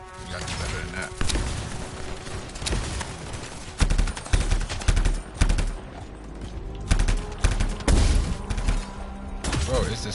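Sniper gunfire in the video game Anthem, with repeated sharp shots and bursts of rapid fire amid impacts, under excited player voices.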